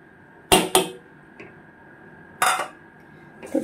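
Lentils being worked by hand into a kneaded mixture, probably in a bowl. A few sharp, close, wet slaps and clatters come in short bursts with quiet pauses between them, and no one speaks.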